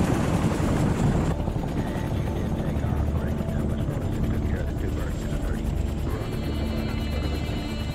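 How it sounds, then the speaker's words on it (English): U.S. military helicopters lift off for a 13-minute flight to a landing zone in Vietnam, their rotors producing a loud, continuous thudding drone mixed with dense background noise throughout. "the first U.S. choppers lift off and begin the 13-minute flight to the landing zone"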